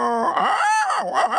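A voice mimics a dog with one sustained, wavering howl-like whine that rises and falls, close and loud, performed in a comedy mimicry act.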